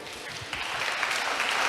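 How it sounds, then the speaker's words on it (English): A church congregation claps for a man who has just finished a Bible reading, a dense burst of applause that swells slightly and carries on steadily to the end. "Clap for him"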